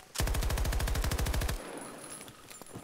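A rapid burst of automatic gunfire in Battlefield 2042, about a dozen evenly spaced, punchy shots lasting just over a second, followed by fainter distant game ambience.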